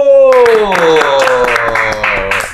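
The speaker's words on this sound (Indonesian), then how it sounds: "Kita ada tepuk tangan untuk Ratu." Applause for Ratu Nabila at a group gathering: a short voice opens, then several people clap in a fairly steady, close rhythm that gradually thins out.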